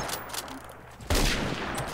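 A Glock 18 set to rapid fire in the shooter game Phantom Forces lets off a sudden loud burst partway through, following a quieter stretch of game background.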